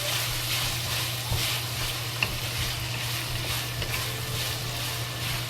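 Ginger and scallion slowly frying in hot oil and rendered pork fat, a dense continuous crackling sizzle with a low steady hum beneath and a few soft stirring knocks, close and even, no voices.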